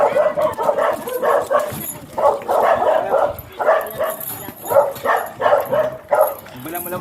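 A large, aggressive Belgian dog barks repeatedly in close, loud bursts mixed with whimpers and yips. Voices talk over the commotion.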